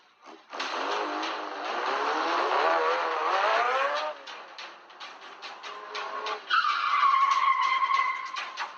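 Racing car tyres skidding and squealing, a long wavering screech followed by bursts of engine and tyre noise, then a second sharp high squeal near the end, loud and close with no talk.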